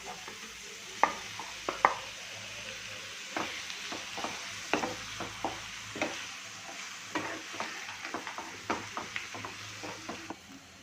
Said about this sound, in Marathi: आता आपण याच्यामध्ये स्मॅश केलेलं जे आपले वांग होतं ते घालून घेणार आहोत